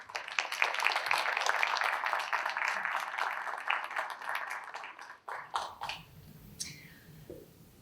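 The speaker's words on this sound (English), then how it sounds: "Let's give them all one more round of applause." At an induction ceremony the audience claps in a dense, lively round of applause that runs for about five seconds and then thins out into a few scattered claps and room noise.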